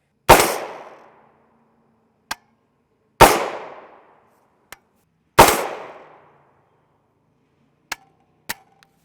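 Three loud, sharp rifle shots from a 300 Blackout firing 220-grain Sabre Blade Black Tip rounds into a gel target, evenly spaced with long decaying tails, followed by several faint clicks and ticks.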